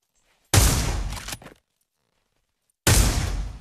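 Automatic gunfire from a rifle in the VR shooter game Pavlov, two loud sustained bursts of rapid shots, the first about a second long followed by a couple of stray shots, then a pause before a second burst.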